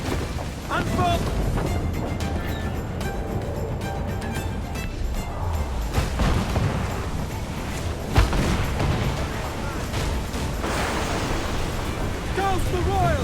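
Cannon fire during a naval battle aboard a sailing ship, deep booms rolling under constant shouting of orders and a dense wash of battle noise, sea and wind, loud and continuous.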